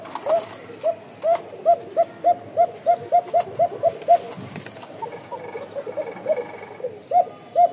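Pigeons cooing in a small breeding loft, a run of short, evenly spaced coos followed by a pause and a few more, close and clear over a soft background hiss.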